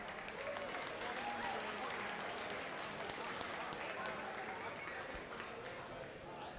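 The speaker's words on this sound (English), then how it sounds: "Give a round of applause to our graduate teaching assistants." Crowd at a university mechanical engineering final competition applauding graduate teaching assistants, a faint, distant, sustained patter of clapping in a large room, with a voice speaking over it.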